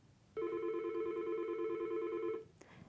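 A Yealink T53/T54W desk phone gives one steady electronic ring tone of about two seconds while its ringer volume is adjusted, clear and close, followed by a brief faint click.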